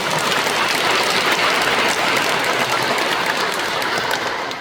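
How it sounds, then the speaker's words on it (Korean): Steady, dense applause fills a Catholic environmental award ceremony, sustained at an even level like heavy rain for the whole stretch, then easing slightly at the end. "다시 한번 박수 쳐주시죠"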